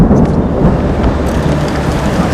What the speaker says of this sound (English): An approaching downpour threatens to grow into a lightning storm.